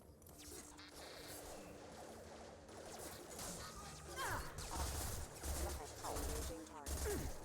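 Submachine gun fire from the sci-fi shooter Mass Effect, rapid bursts mixed with impacts and crashes in a busy firefight, moderately loud, with speech-like game sounds over it.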